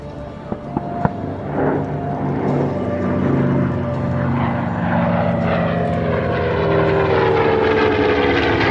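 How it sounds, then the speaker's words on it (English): A World War II B-25 Mitchell medium bomber flies past at an air show, its propeller engines rising from a distant drone into a loud, sustained roar that shifts in pitch as the aircraft nears. "the B-25 Mishap, a medium bomber from World War II"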